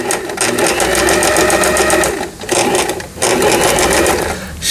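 A Lion/Janome 2041 sewing machine runs a straight stitch, its rapid mechanical whirr and needle clatter close and loud, stopping briefly twice before starting again.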